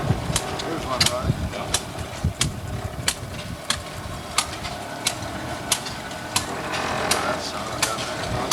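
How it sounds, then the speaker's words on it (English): Steam engine running at an outdoor vehicle show, a rhythmic series of sharp regular beats over a low mechanical drone and ambient noise, with no clear voices. "There's a steam engine running."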